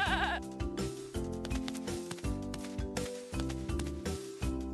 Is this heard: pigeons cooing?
no